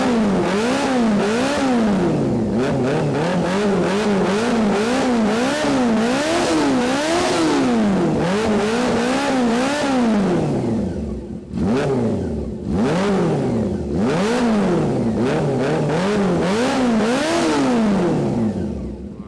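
A motorcycle exhaust is revved over and over, engine pitch climbing and falling in quick repeated swells, loud and close throughout with a brief dip midway.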